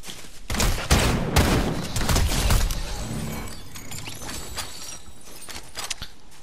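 Heavy gunfire in a first-person shooter, a loud burst of rapid shots with sharp cracks and rattling debris, settling into a sustained rumble.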